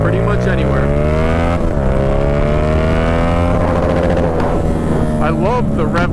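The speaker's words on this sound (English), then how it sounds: "I love the rev limiter on this thing, and not even that, paired with the M4 exhaust" A 2015 Yamaha FZ-07 motorcycle fitted with an M4 exhaust revs hard and loud up close, its engine note rising and falling across several throttle pulls, with a voice heard under the engine roar.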